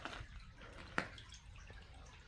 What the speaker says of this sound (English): There's water dripping even from up here.